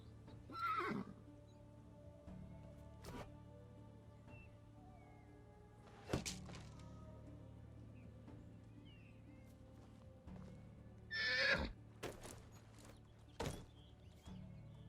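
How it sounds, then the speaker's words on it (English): Horse in the Medieval Dynasty video game, neighing loudly at intervals over a steady low background, with occasional hoof thuds and short clip-clop sounds as it is ridden. "saddling his horse, Stallion, and continue riding north"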